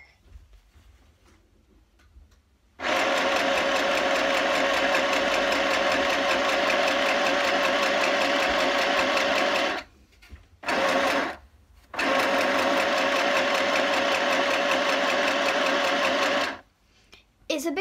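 A sewing machine runs loudly and steadily while stitching fabric for a cushion, in three long bursts separated by brief pauses, close up with no talk.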